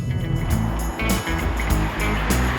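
An Abarth 500C convertible's engine and exhaust drone steadily at speed with the roof open, a low rumbling note under heavy rushing wind noise.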